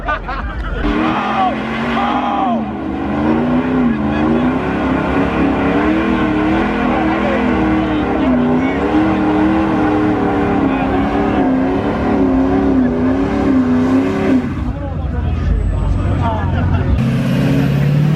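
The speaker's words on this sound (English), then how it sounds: "Maybe they'll do some burnouts on the way in." Lifted trucks idle and rev at a nighttime truck meet in Atlanta, a loud, continuous engine drone that rises and wavers, with crowd chatter and voices mixed in, then a sudden drop and a renewed roar near the end.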